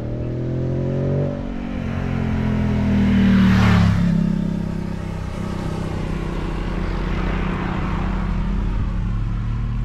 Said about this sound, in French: Petite moto derrière.